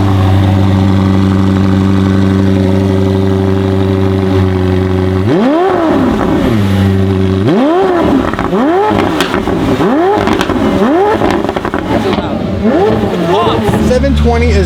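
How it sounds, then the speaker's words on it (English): A stock supercar engine idles steadily, then is revved repeatedly in a series of sharp, loud throttle blips that rise and fall close by, with a final rev near the end. "Shall we hear a startup and a rev?"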